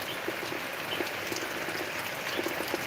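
Heavy rain falls without letup in a village, a thick steady wash of splashing water with faint scattered drips, near and even in loudness, and no one speaking.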